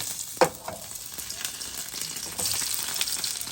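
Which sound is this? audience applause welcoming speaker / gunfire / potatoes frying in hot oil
potatoes frying in hot oil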